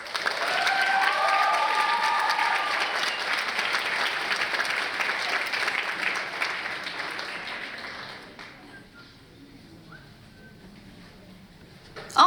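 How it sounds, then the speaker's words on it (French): Sustained audience applause fills a college talent show hall, loud and dense with clapping from a large crowd for about eight seconds before tapering off into scattered claps and quiet room noise. "Applaudissons-les!"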